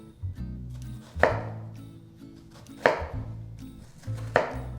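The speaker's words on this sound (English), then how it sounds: "And then I come from the top, 1/2 inch slices." A knife chops through an onion on a cutting board in half-inch slices, three sharp distinct cuts landing at a slow, even pace, close and clear with no talking.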